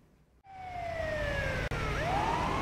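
A loud ambulance siren wails with falling then rising pitch sweeps, over steady road and engine rumble from the ambulance moving fast nearby.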